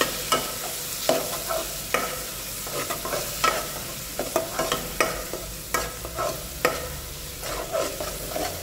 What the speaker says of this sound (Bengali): এটাকে একটু নাড়িয়ে নেব।